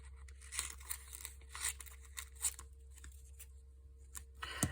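Scissors cutting a strip off the top of a paper insert for a beginner journal, a series of short crisp snips and rustles, close and fairly quiet, with no talking.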